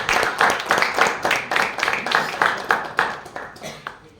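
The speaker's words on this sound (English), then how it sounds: "Let's give a round of applause." Audience applause at the close of a session at a Toastmasters-style speakers forum meeting, with loose rhythmic clapping bursts pulsing steadily throughout, fairly close and moderately loud.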